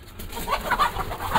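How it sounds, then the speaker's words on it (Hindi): Startled farm chickens clucking in a flurry of overlapping, fairly close calls that continue without pause. "ओहो मेरी मुर्गियाँ परेशान हो जाती हैं मुझे इस तरह देख के"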